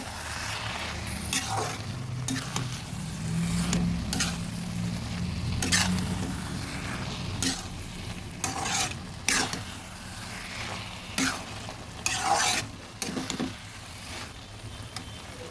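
Ash gourd and prawn curry frying dry in a pan while being stirred, a steady sizzle broken by repeated scraping strokes of a spoon against the pan, close and without talk.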